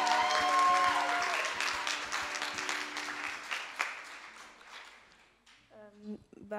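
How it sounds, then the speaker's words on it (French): Church congregation applauding at a baptism service, dense clapping loud at first and gradually thinning out, with a sustained musical tone underneath and a few scattered claps near the end. "On peut l'encourager,"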